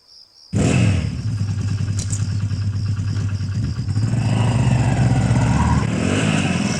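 A motorcycle starts abruptly after brief quiet, its engine settling into a loud, throbbing idle that then builds as the bike revs and pulls away, staying close and steady to the end.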